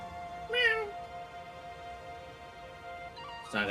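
A cat in the Unicorn Overlord video game meows twice, a clear rising call followed by a second one about three seconds later, over a quiet steady game-music hum.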